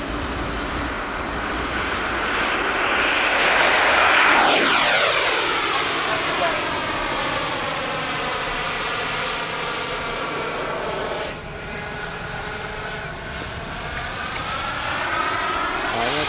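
An RC YAK-130 model jet takes off across the runway in a north crosswind, its turbine whine loud and steady before the pitch drops sharply as it speeds past and climbs away, with someone talking over it.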